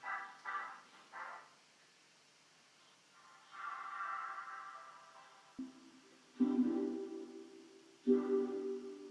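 Vocoder-processed synth tones with added reverb, a few short robotic buzzy chords followed by longer sustained phrases with a hollow trailing wash, moderately quiet with brief silences between.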